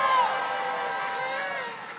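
A live audience at a Hoosier Idol 2018 singing contest makes noise to test a clap-o-meter decibel meter, giving a loud, sustained wash of crowd cheering and whooping that holds steady for two seconds.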